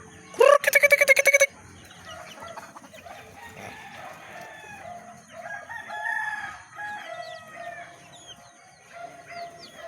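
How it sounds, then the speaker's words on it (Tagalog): A rooster crows loudly once near the start, followed by scattered chicken clucks and calls continuing softly through the rest. "Yung mga manok ko, hindi pa nagsikain yung mga manok ko na yan."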